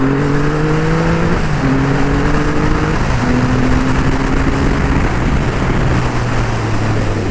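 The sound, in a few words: Triumph Rocket III GT 2500cc motorcycle riding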